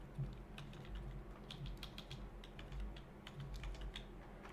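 Rapid, uneven clatter of typing on a computer keyboard, close and steady throughout with short bursts of keystrokes over a low background hum.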